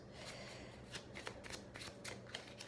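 Tarot cards being shuffled by hand, a soft steady riffling with a handful of sharper flicks and snaps, close and quiet with no talking.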